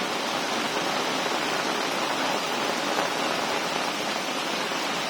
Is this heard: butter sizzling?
no